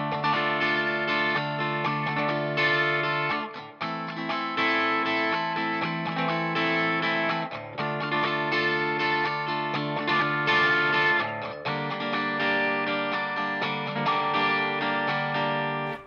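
Electric guitar strumming chords in a busy 16th-note pattern, a steady driving rhythm with slight effects coloring, continuous and alone with brief gaps between chord changes.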